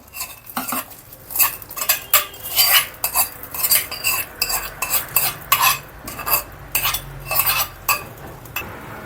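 Onion tempering stirred into mashed amaranth greens (arai keerai kadaiyal), with loud, rhythmic scraping and clinking of a spoon against the vessel, close up and continuous.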